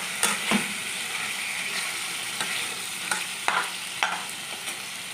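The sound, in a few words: chicken being stirred and fried on high flame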